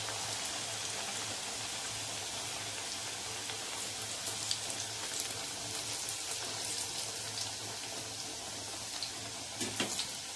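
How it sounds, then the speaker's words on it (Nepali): Aloo nimki, a potato and flour snack, frying in hot oil in a pan over low heat gives a steady, quiet, even sizzling hiss with a few small pops near the end and no talking. "अझै यो निम्की तार्ने।"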